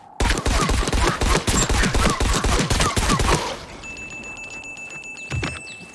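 Rapid gunfire in Dying Light: The Beast: a loud, close burst of about a dozen evenly spaced shots lasting roughly three seconds, then quieter game ambience with one faint thump.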